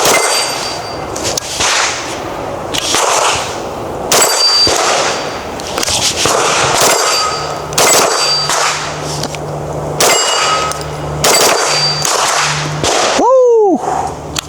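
A Springfield Kuna pistol-caliber carbine fires steel-case ammunition in a string of loud, sharp shots at close range, evenly spaced with short gaps, followed by a metallic ring at the end.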